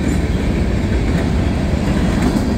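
A Norfolk Southern mixed freight train rolls past in Homestead, Pennsylvania, its steady low rumble and rail noise loud and continuous throughout with no talk.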